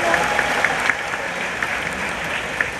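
A crowd at a political speech applauds members of a parliamentary party's faction, with thick, steady clapping and a few louder individual claps standing out, continuing throughout.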